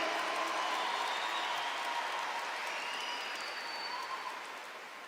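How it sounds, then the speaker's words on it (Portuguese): Dense, steady applause from a crowd at a Catholic church camp, sounding like a continuous wash of many hands, moderately distant, holding even and then easing slightly toward the end, with no talking over it. "Pode aplaudir, pode aplaudir, pode aplaudir, pode aplaudir."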